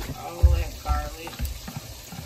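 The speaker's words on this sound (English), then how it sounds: "I'm going to add in my onions and my garlic." Onions and garlic drop into melted butter in a pan, giving a soft sizzle with a few stirring thumps and scrapes, fairly close.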